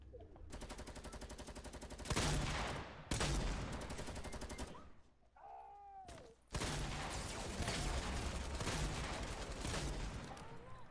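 A minigun in Fortnite spinning out long, loud, buzzing bursts of fire, broken by a short pause with faint other noises before another sustained volley.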